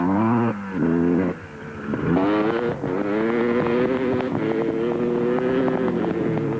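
Quad bikes race in the Lichtenburg 200 off-road event, engines revving and shifting pitch as they pass fairly close, loud and continuous.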